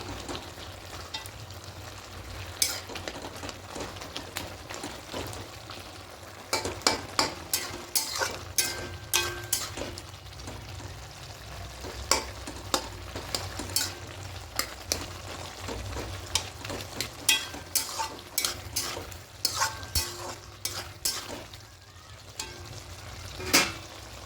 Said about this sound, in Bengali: এবার একটু আলুগুলো কীভাবে ঘেটে দেবো